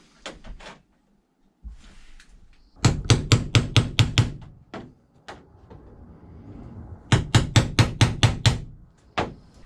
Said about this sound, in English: I can use my center punch and poke a couple holes and install the bracket.